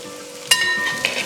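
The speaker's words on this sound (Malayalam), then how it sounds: "നമുക്കിതിലോട്ട് ഇനി 2 മീഡിയം സൈസിലുള്ള സവോള ചോപ്പ് ചെയ്തെടുത്താണ് നമുക്ക് ഇട്ട് കൊടുക്കാം." Chopped onions hit a hot pan with coconut pieces, garlic and ginger for a Kerala clam fry, giving a steady close sizzle with a sharper burst as they go in and stirring scrapes after.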